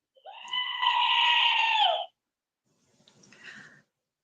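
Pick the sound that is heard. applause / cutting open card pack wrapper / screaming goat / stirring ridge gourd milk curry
screaming goat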